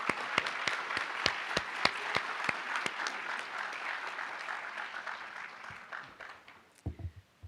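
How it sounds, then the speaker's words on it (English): An audience at a university College of Education credential ceremony claps in a fairly faint, distant round, with a few sharp nearby claps standing out, tapering off before a short burst of other sound at the end. "Can you give Hugo a round of applause?"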